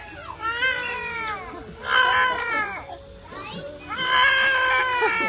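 A person's voice imitates a crying cat with three drawn-out, wavering meow-like wails at a campsite, close and fairly loud, with faint background chatter between the cries.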